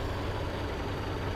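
A larger 100 horsepower engine runs with a steady, low rumbling hum, continuous and even throughout, with no talking.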